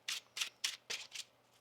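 A deck of tarot cards is shuffled by hand in five quick, crisp riffling bursts with short pauses between, close and fairly quiet.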